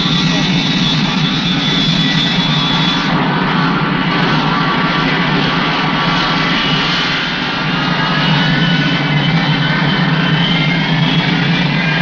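A jet airliner roars continuously at full power on takeoff, a loud, steady engine drone with a high whine, heard close and unbroken throughout.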